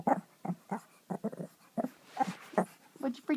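A small dog hidden under a bed whimpers and whines in short repeated bursts, fairly close, with a few low growly yips mixed in and no talking over it.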